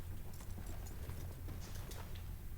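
Horse hooves clop along in Red Dead Redemption 2, a close, steady clip-clop rhythm continuing throughout at moderate volume.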